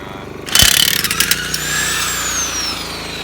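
An impact wrench bursts on at a wheel with a sharp, loud whir and rattle that holds steady at a lower level, then winds down in a fading whine.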